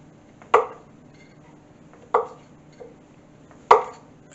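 Three sharp knife chops through chilled butter on a cutting board, spaced about a second and a half apart with a faint fourth tap between the last two, close and crisp with no talking.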